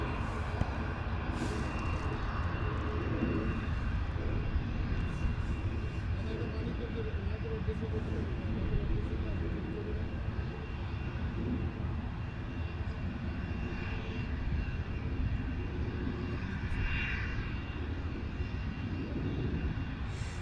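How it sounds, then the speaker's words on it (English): A Ryanair Boeing 737 jet passes directly overhead near London Luton Airport, its steady broad engine roar holding loud and constant throughout, with faint voices underneath. "We've got a Ryanair Boeing 737 flying directly over the top of us."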